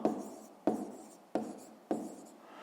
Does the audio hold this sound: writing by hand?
yes